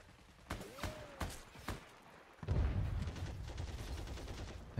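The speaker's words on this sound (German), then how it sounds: "von wo kamen jetzt die Schüsse?" Several sharp gunshots crack in quick succession in the video game Heroes & Generals, followed by a rumbling burst of rapid fire and a sustained low roar.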